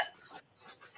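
A fork scrapes and taps against a bowl while mixing a butter mixture for a cabbage bake, producing quick close clinks and scraping in two short bursts with a brief pause between them.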